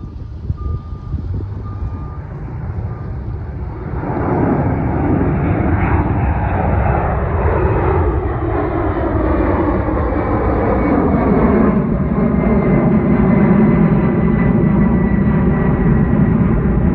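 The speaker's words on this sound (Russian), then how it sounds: "Узбекистан, Самарканд, взлет пассажирского самолета." A passenger airplane takes off in Samarkand, Uzbekistan: a quieter engine rumble swells after about four seconds into a loud, sustained jet roar with rising and falling whine tones. The roar continues steadily to the end, with no talking.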